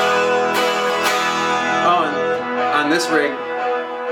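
Electric guitar notes ringing with echo and reverb trailing behind them, while someone speaks briefly over the playing.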